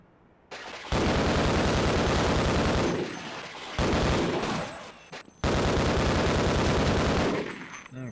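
Submachine gun fire in Half-Life on PlayStation 2, loud sustained bursts in three long stretches separated by brief pauses, close and dominant.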